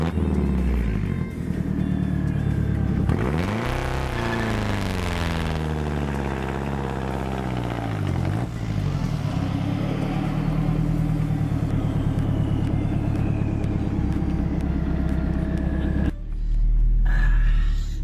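A Volvo car engine revs hard and loud during a burnout attempt, the pitch sweeping up and down in repeated surges before settling into a steady high drone that cuts off near the end.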